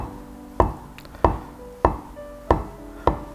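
Kitchen knife slicing soft, tender tofu into small cubes on a cutting board: five crisp, evenly spaced chops land about every half second, close and clear, with no talking.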